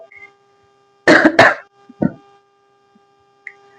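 Two sharp, close coughs in quick succession followed by a smaller throat sound, loud against an otherwise quiet home kitchen, with no talking.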